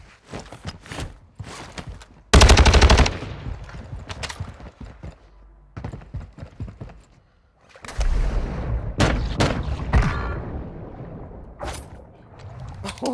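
Akimbo Snakeshot guns in a video game fire in loud, sharp bursts: a dense volley early on, then scattered heavy shots and a long stretch of fire later. The shots come between quieter stretches of in-game movement.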